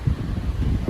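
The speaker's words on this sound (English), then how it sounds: "quite a windy day, and I apologise for any wind in the microphone." Strong dust-storm wind in the Australian bush near open paddocks buffets the microphone with a loud, continuous low rumble that swells and dips over one second.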